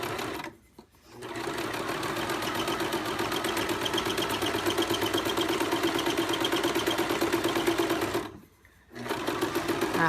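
Sewing machine stitching an apron seam in a home-school co-op sewing class, running steadily for several seconds at a time with two short pauses between bursts of stitching, close and loud.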